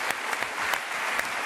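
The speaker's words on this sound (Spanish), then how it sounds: "Aplauso para Toridoma, por favor." An audience at a live event where an improvised song was performed breaks into brisk, continuous applause, a dense patter of clapping with no speech.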